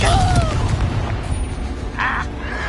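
A Confringo fire spell bursts in the video game Hogwarts Legacy, its booming blast layered over dense, loud combat noise, with a character's voice and a brief whoosh partway through.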